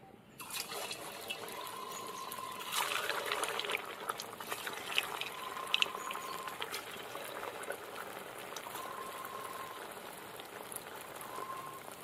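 Pieces of a sweet made from Gobindobhog rice fry in hot white oil in a pan, giving a dense, steady bubbling sizzle like light rain with faint occasional pops, and a soft repeating beep in the background.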